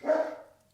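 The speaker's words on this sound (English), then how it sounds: "Sorry about my dogs." A single dog bark rings out, sharp at first and then fading as it echoes briefly, with no talk over it.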